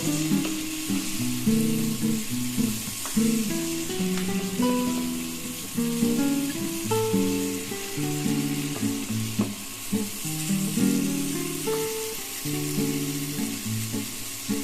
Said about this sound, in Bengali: আমার মোটামুটি ভাজাও হয়ে এসছে আর দু মিনিট ভাজলে তাহলে আমার মোটামুটি ভাজাটা কমপ্লিট হয়ে যাবে